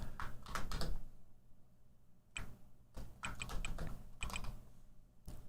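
Someone types on a computer keyboard, with quiet, close clusters of key clicks in short bursts separated by brief pauses.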